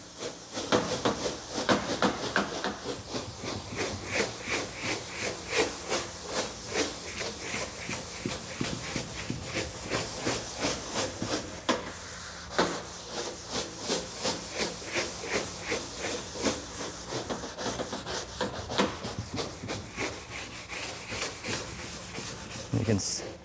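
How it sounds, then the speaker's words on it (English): A scrub brush works soap into a microgreens harvesting table, producing a steady, rhythmic rasping scrub of quick back-and-forth strokes up close that continues throughout. "I'm gonna take my scrub brush and just scrub it in there really good."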